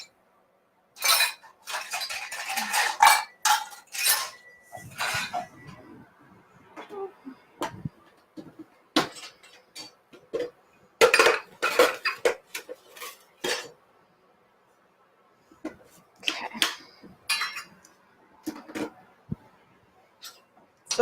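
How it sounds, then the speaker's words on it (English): Spice mixture being stirred with sugar in a bowl for coating chai-spiced snickerdoodle cookies, bursts of clinking cutlery against a dish separated by quiet gaps. "And then the rest I'm going to mix with a 1/4 cup of sugar"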